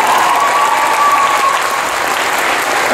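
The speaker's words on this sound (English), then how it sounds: "I think a round of applause for him now" Loud, dense applause from a comic convention Q&A audience, continuous and steady for the whole stretch with no break.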